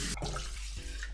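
Water pours into a pot of rice being soaked to cook for Japanese chicken katsu curry, a short splashing gush that stops abruptly and then trickles briefly, alone without talking.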